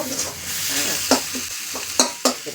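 Sour vegetable chorchori is stirred in a pan, giving a soft, continuous sizzle punctuated by several distinct scraping knocks of the spoon against the pan, close and without talk.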